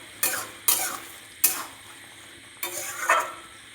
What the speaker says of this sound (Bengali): এই দেখুন, একটু নাড়াচাড়া করে দিলাম।